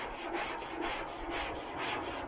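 A scraper drags gooey, drying rust remover off a 1978 Nova body panel in steady, rhythmic strokes, about five rasping passes close up with a continuous gritty texture.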